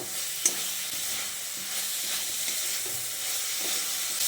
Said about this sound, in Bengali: আলুগুলো দিয়ে মশলার সঙ্গে আবারও ভালো করে মিশিয়ে নিচ্ছি।